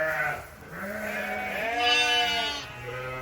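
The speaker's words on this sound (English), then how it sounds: "It's a nice big strong lamb." Newborn lamb bleating in a series of several wavering, tonal cries at close range, with the calls rising and falling in pitch over a faint background.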